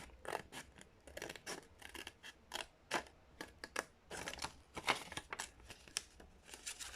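Scissors snip through a paper card in quick, crisp, irregular cuts, close and fairly quiet, with short pauses between bursts and no talking.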